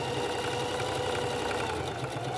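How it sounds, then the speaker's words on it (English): A sewing machine running a straight stitch through fabric for a book cover, a steady close mechanical whir with a rapid needle rhythm throughout. "Now return to your sewing machine and close the open side with a straight stitch"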